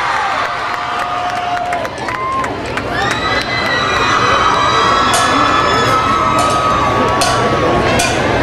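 Festive outdoor crowd at a Fiestas Patrias concert in Phoenix, Arizona, loud cheering, whoops and shouting for a young singer, swelling and staying strong through the clip with whistles and clapping mixed in.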